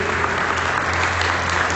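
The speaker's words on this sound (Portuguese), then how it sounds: "Você pode dar um aplauso?" A church congregation applauds during a Portuguese-language sermon, a steady, dense wash of many hands clapping that holds evenly from start to finish at close, full volume.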